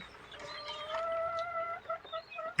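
Native country chickens cluck softly at close range, with thin peeps from chicks mixed into the brief, quiet flurry and no talking.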